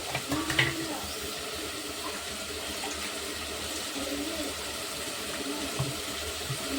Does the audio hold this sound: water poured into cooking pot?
yes